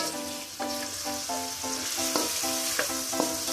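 Ginger fries in a pan for Filipino chicken in coconut milk. A steady sizzle runs under the scrape and click of a spatula or spoon stirring it, close and moderately loud, with no talking.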